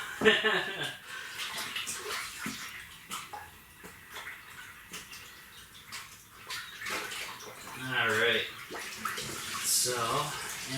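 Water runs and splashes into a sink in an off-grid tiny house, flowing in uneven bursts that rise and fall, with occasional clatter and some talking nearby.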